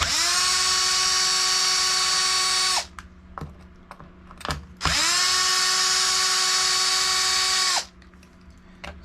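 A cordless power tool spins out bolts on a Traxxas Maxx v2 RC car, with two long, steady, high whirring runs of a few seconds each and light clicks and handling noises in between.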